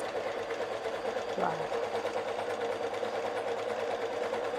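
An electric sewing machine runs a zigzag stitch with a continuous close mechanical whir and hum. Someone talks over the machine.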